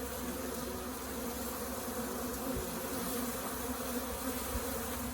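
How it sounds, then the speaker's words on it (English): A steady, dense buzz of many bees swarming around a syrup feeder nearby, a continuous droning hum with no voices. "bees are all flying, and they're just on everything"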